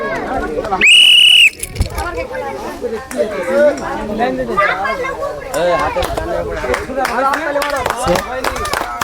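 A single loud, shrill whistle blast starts a round of a ball-knocking game, followed by lively chatter, clapping and clinking from a crowd of people talking nearby.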